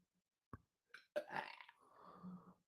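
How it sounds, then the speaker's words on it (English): A person lets out a loud, drawn-out belch that rumbles for over a second, preceded by a couple of short throaty noises, close and alone in an otherwise quiet room. "It made you belch all right"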